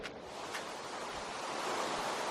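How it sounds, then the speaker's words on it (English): Water spilling off the edge of an island in the video game Minecraft makes a steady, soft rushing hiss like a distant waterfall, continuous and unchanging throughout with no voices. "the islands themselves are surrounded by, water. You can see how it's done. And the water kind of falls off the edge"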